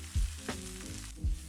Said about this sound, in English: I'm pan frying these over medium-high heat in a non-stick pan